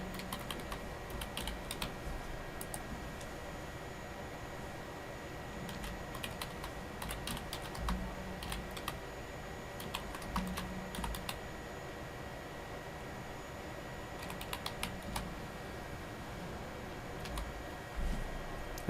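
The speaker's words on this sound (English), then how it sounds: "So I'll just type a subject" Fingers tapping a computer keyboard, typing an email subject line in Gmail, a quiet run of light irregular key clicks with small pauses, close and soft, no talking.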